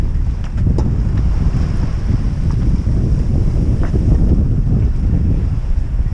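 Steady wind roars across the microphone while a sailboat runs on a deep broad reach in about 15 knots of breeze, at sea south of the Faroe Islands, with a continuous low rumble of water and no talking.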